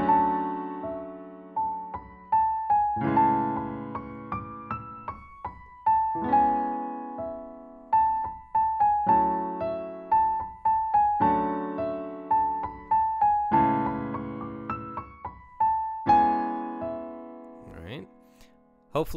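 Jazz chords with added extensions, including a sixth chord, played on a keyboard as a series of distinct struck chords with ringing sustain and decay, clear and close, with no talking over them.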